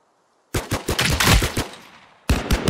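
Automatic weapon fire in the shooter game Last Man Standing erupts after a brief silence as a rapid burst of close, loud shots, then a short pause and a second burst.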